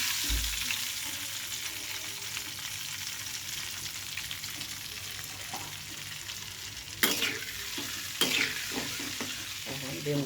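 Eggs frying in hot mustard oil with turmeric in a pan, a continuous close sizzle with occasional scrapes and two louder clattering bursts near the end.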